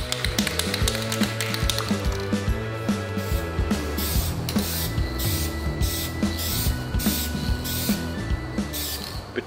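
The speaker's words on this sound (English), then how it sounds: "trying to keep that paint mixed so it's coming out in a consistent spray" Hissing bursts from an aerosol can spraying primer on a pickup truck's fenders in short pulses, mixed with rattling and mechanical clicking close by.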